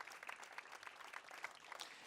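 A crowd gives a round of applause at a Memorial Day ceremony in Moreno Valley. The clapping is dense and continuous but fairly faint and distant, lasting a couple of seconds.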